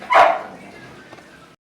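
A single sharp dog bark rings out up close, followed by a fading echo and faint background noise.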